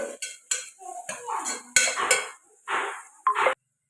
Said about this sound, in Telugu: ఇవి ఇప్పుడు ఫ్రై అవ్వాలండి కలుపుకుంటూ ఫ్రై చేసుకుందాం